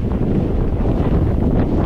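Strong wind buffets the microphone while bikepacking along the Adriatic coast in the Velebit range, a steady loud roar with gusty low rumble and no voices.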